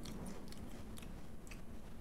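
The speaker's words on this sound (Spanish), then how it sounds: "Comete unas patatillas campesinas." Someone chews crunchy country-style potato chips close up, giving quiet crisp crunching bites in a loose irregular rhythm with no talking over them.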